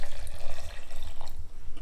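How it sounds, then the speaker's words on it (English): Cold water pours onto cucumbers, ginger and serrano pepper in a kitchen, a steady splashing gush that runs continuously and fairly loud for the whole stretch, with no talking over it. "I'm going to put some cold water"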